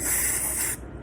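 An aerosol cleaner sprays onto a pistol slide in one close, loud hissing burst that lasts under a second and then cuts off sharply.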